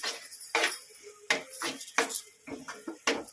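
Metal utensil scraping and clinking against a pan while ginger paste and tomato are stirred, in repeated irregular strokes, close and moderately loud with no talking.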